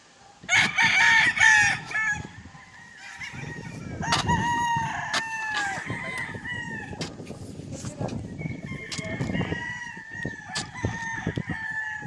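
Chickens cluck and a rooster crows loudly near the start, followed by continued clucking and squawks over rustling and scattered background noise, as a pitbull attacks a chicken.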